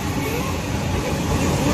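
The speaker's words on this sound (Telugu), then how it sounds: "ఇది గూడ్స్ ట్రావెల్ చేసే ట్రైన్ గైస్. ఎంత ఫాస్ట్ వచ్చింది" A goods train rushes past a station platform at speed, giving a loud, steady broadband rumble and roar that holds unbroken throughout, with no distinct clatter standing out.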